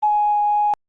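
A single short sampled instrument note from SNES-era game music, a pure steady electronic tone lasting under a second that stops abruptly, leaving silence.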